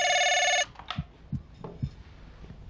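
A telephone bell rings loudly and continuously for about half a second, then stops, followed by scattered soft knocks and rustles in a quiet room.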